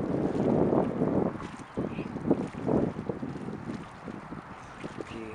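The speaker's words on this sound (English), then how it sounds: "that's how windy it is" Strong wind buffeting the microphone in heavy, uneven gusts, with a dull rumble throughout and a few faint bangs mixed in.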